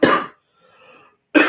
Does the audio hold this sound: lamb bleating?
no